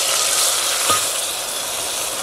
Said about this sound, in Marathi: चुलीवरची स्पेशल फोडणी. तेल मस्त गरम झाले आणि लसूण पण लालसर झाले. तर आता मी फोडणी देते.